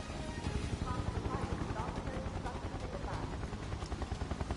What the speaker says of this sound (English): Okay, helicopter. I see it.